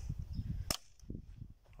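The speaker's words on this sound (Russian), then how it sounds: "теперь три выстрела Наташи" One sharp, fairly faint gunshot crack rings out outdoors at a fishing spot in the Rostov region, heard against low rumbling background noise.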